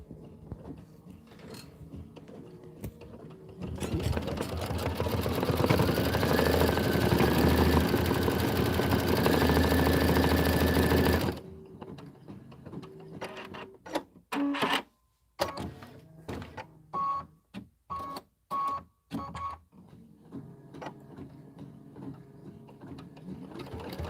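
An embroidery machine stitches the rind detail on a watermelon design, a loud continuous mechanical whir for several seconds, then a run of short start-stop bursts separated by brief pauses.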